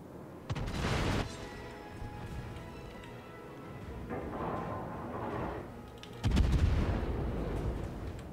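Naval guns fire in the warship game World of Warships, with booming salvos arriving in a few heavy bursts over a rumbling, moderately loud battle background.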